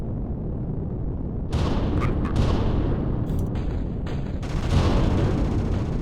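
Gunfire and booming blasts from the video game SALVO begin after a quiet opening and come in loud, dense bursts with short breaks and brief high tonal accents, with no one talking.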